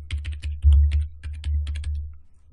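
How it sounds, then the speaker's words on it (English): Fingers tap out a password on a computer keyboard, a quick run of crisp, close keystrokes in small bursts with short pauses, ending in a brief quiet stretch, no voices. "Type the password in again."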